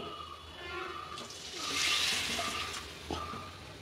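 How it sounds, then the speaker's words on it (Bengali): Water poured into a pot of taro and hilsa fish head curry in a home kitchen, a soft steady splashing pour that swells and fades over a few seconds. "এবার আমি এর মধ্যে দিয়ে দেবো জল"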